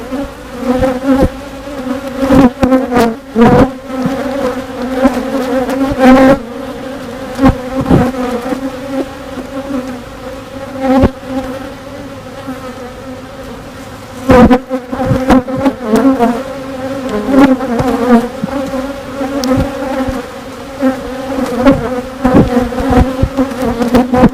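Honeybee swarm buzzing loudly and continuously, a dense droning hum with no talk over it.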